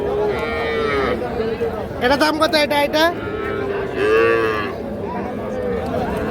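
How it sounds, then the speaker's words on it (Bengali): Young bull calves, around three months old, moo at a busy cattle market, drawn-out calls rising repeatedly while people talk and haggle nearby. "এর পাশে বিক্রি হচ্ছে এগুলো ষাঁড় বাচ্চা।"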